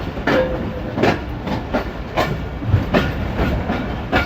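The Pakistan Express passenger train pulls into Dina railway station with loud rhythmic clickety-clack of wheels over rail joints, repeating about every half second over a steady rumble.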